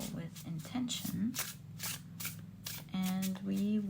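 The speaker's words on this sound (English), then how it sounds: "let's pick up your next deck and shuffle with intention" Deck of cards being shuffled, a run of quick papery riffles and flutters in close bursts, heard under a voice speaking throughout.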